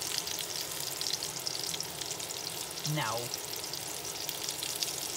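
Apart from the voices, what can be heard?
food frying while cooking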